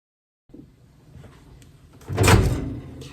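A microwave door in a home kitchen opens and shuts close by: a soft click and light rattle, then a louder thud as the door closes.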